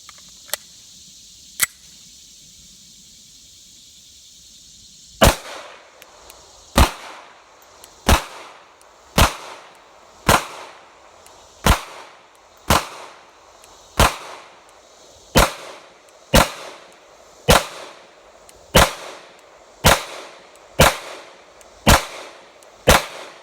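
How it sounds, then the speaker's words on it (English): Sharp, loud pistol shots from a Beretta 90-Two at an outdoor range: two isolated reports, a pause, then a steady string of about fourteen evenly spaced shots, each with a short ringing decay. "You are shooting right where you want to."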